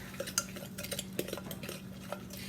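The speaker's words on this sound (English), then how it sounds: "So we're going to mix. We're going to make sure we get it on the sides." Fork stirring blueberry muffin batter in a mixing bowl, scraping the sides, with light repeated clinks and scrapes of metal against the bowl, close and fairly quiet, no talking.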